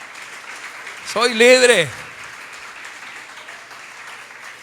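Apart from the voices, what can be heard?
church congregation applauding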